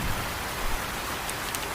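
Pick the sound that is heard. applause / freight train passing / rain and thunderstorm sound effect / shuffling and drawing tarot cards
rain and thunderstorm sound effect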